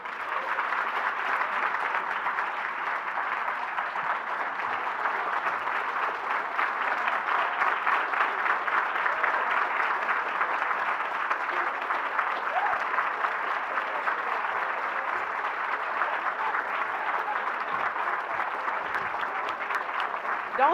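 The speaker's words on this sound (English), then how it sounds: "Don't stop applauding." Sustained applause from a large audience at an annual Martin Luther King Jr. memorial breakfast, a dense, even roar of clapping with no break for twenty seconds.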